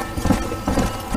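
Horse hooves galloping in Red Dead Redemption on PS3, a quick, close run of rhythmic thudding clip-clops over a short burst with no talking.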